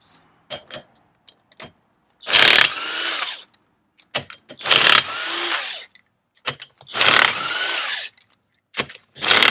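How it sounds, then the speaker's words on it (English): DeWalt DCF 900 impact wrench removing wheel nuts during a front brake job, firing in four loud hammering bursts of about a second each, separated by short clicks and handling noises. "today I'm using a DeWalt DCF 900 as my main impact wrench today"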